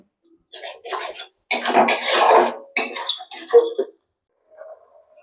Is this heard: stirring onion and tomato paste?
yes